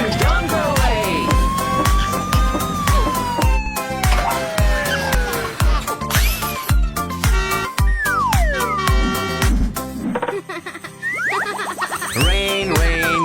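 Cartoon ambulance and police car sirens wail and sweep up and down over bouncy children's music with boing effects, loud and continuous throughout, with a sung children's song heard alongside.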